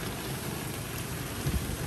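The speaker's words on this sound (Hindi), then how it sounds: "now I am going to show you के बारिश कैसे हो रही है" Rain falling outside an open window, a steady, even hiss of drops that fills the whole moment with no voices.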